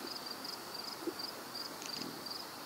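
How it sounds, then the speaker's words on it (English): Faint crickets chirping in steady repeated pulses at night on a wilderness lake, heard over soft background hiss with no voices. "You hear the crickets."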